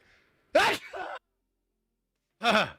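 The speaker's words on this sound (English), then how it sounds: "I feel a sneeze coming on, but it's building like really slowly." A person gives two sharp, close sneezes about two seconds apart, each a sudden loud burst of breath and voice, the first trailing into a short exhale.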